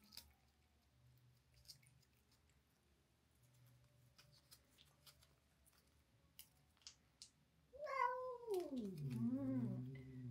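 Quiet room tone with a few faint ticks, then a close stray-born house cat, offered a churu treat, gives a long, wavering meow near the end.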